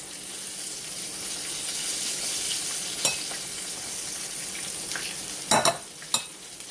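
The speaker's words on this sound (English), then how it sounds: "don't want to fry it on high heat or it won't get done right" Flour-coated chicken wings fry in oil over moderate heat with a steady hissing sizzle. A few louder clatters and crackles break through near the end as the pieces are moved.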